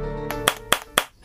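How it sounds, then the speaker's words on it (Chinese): Hand clapping, three sharp claps at a steady rhythm, close and loud over a low steady hum. "在这里拍手，我也来拍两下"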